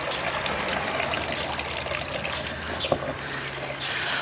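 A backyard water feature on a homestead trickles in a constant, close splashing wash, with one small splash partway through.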